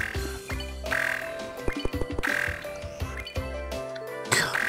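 Cartoonish duck quacks in the Mokoko video game sound in a quick, irregular series of nasal honks mixed with bright game tones and music, loud and close.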